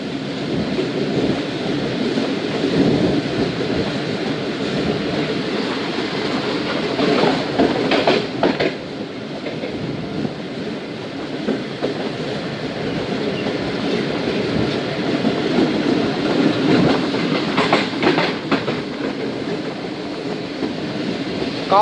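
A loaded freight train on Pakistan Railways, a long rake of ZBKC wagons behind a locomotive, rumbles steadily past close by for the whole stretch, with a deep continuous roar and faint rail clatter swelling at intervals.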